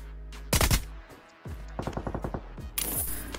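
Close-range automatic gunfire in the mobile shooter BGMI: a loud burst, a short pause, then a rapid string of evenly spaced shots and a final noisy burst.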